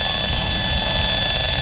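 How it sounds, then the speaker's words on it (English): An EMF meter near a mobile network antenna emits a continuous high, buzzy electronic tone with a dense, grainy texture, steady and loud without pauses. "if you like turn this way, the sound of the meter goes down"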